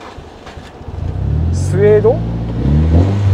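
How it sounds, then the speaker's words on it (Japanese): A Nissan S15 Silvia engine cranks and catches, then revs once and settles into a low, steady idle close by, with someone talking over it. "エンジンかけちゃうね。"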